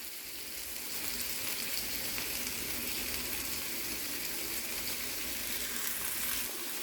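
Prawns sizzle and fry steadily in a pan for a ghee roast as they are turned over, a dense, even crackle with no talking.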